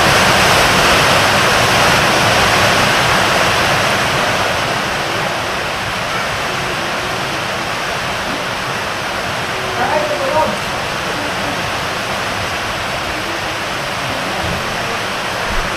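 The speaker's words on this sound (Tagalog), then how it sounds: "Sobra, patuloy ang pagbuhos ng ulan." Heavy rain pours steadily, a loud dense wash of broadband noise that fills the whole stretch, easing slightly after the first few seconds but continuing unbroken, with a brief faint voice partway through.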